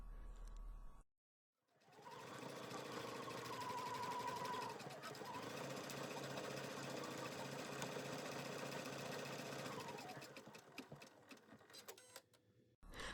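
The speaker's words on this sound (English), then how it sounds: "The next step of the design will stitch out the face." An embroidery machine stitching out a tooth pillow design in the hoop, a steady fast mechanical whirring hum with rapid needle clatter, beginning after a brief pause and running without interruption, no speech.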